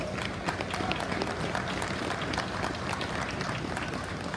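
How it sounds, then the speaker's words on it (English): Dense, steady applause from a large crowd at a livestock show's cattle championship, broadband clapping sustained throughout without a break. "So please give them a really big round of applause."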